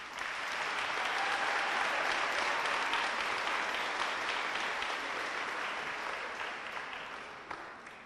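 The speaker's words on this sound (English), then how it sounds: "Give these Marshals a round of applause" Sustained audience applause at a high school academic awards banquet, a dense wash of clapping from a full room that swells quickly, holds steady, and tapers off near the end.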